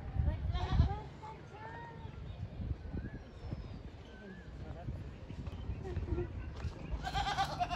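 Goats bleat now and then in a village among chatter and general outdoor bustle, with people talking throughout and birds faintly in the background.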